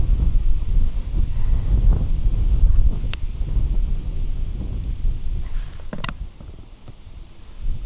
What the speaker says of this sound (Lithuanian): Jeigu truputį vėjas mažesnis būtų